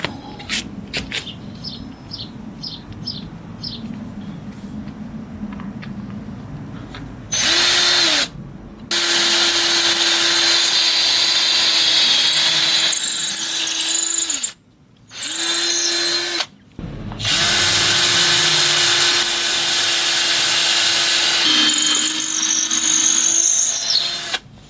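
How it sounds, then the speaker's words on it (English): A power drill bores into the wood of a garden workshop while installing a rose trellis, loud whining runs starting and stopping several times with brief pauses, birdsong chirping faintly in the background. "let's drill it."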